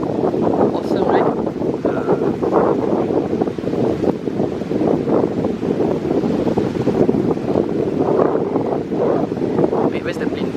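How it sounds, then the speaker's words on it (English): Strong wind gusting at Changi Beach car park by the sea, a steady loud broadband rush buffeting the microphone throughout, with a voice talking over it now and then. "Oh, it's a great windy day, guys."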